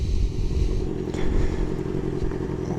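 A motorcycle engine rumbles on a sunny-day ride around Oxnard, a loud, steady low drone with wind rush and small clattering over it, continuous and close throughout.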